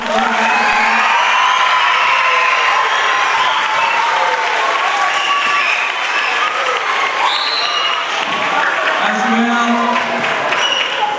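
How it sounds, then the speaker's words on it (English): A school assembly crowd claps loudly and steadily for the 8th graders, with children's cheers and whoops rising over the sustained applause. "Can we give, well, the 8th graders a big round of applause?"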